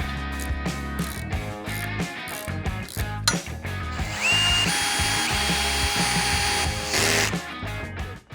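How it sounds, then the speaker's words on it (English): A cordless drill fitted with a 10mm socket tightens the bolts on a Prinsu Pro roof rack atop a 1996-2002 Toyota 4Runner. Bursts of whirring and ratcheting run under loud, steady background music throughout. "now I've got my drill with a 10mm socket. I'm just gonna go ahead and tighten these bolts all the way down."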